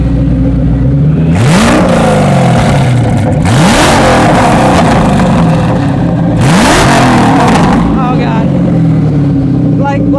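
A 2006 Ford GT engine heard from outside the car, revved hard in three loud bursts that climb and fall back between blips, with people talking over it.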